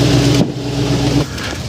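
A 2010-2016 Chevy Express van engine idles with a steady low hum, briefly shifts in tone, then cuts off about a second in, leaving a quieter residual rumble.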